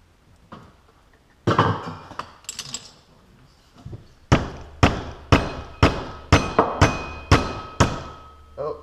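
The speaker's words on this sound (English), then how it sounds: "Now we need a rubber mallet on that." Rubber mallet striking the cam of a 47-year-old Honda CB350 engine during teardown, a run of about ten evenly spaced, fairly loud knocks after a few scattered earlier clunks.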